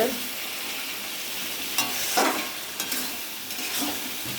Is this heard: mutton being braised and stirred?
yes